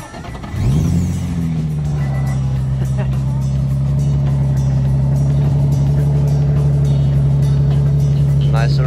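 A sports car engine cranks and catches, then settles into a loud, steady idle that rumbles close by for several seconds, with people talking faintly over it.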